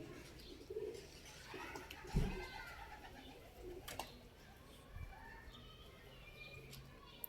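Pigeons coo softly nearby with low throaty calls, a few chirps and a brief flutter over faint outdoor background.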